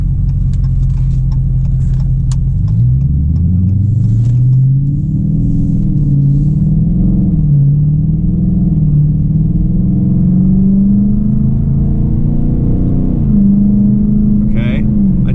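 Dodge Challenger R/T V8 in normal mode with a throttle controller fitted, idling then creeping off and accelerating, a deep close engine rumble rising and falling in pitch through the gears, with occasional talk inside the cabin.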